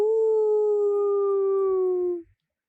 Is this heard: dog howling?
yes